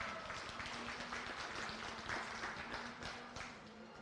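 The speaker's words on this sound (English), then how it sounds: "Let's give him a big round of applause." An audience at a county fair sheep show gives a faint, scattered round of clapping that trails off toward the end, heard at a distance in a large hall.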